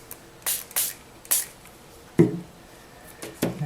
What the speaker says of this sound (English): I was going to spray through a stencil just to see.